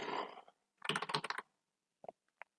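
Computer keys are pressed in a quick burst of close clicks, then two single taps after a pause, quiet and alone.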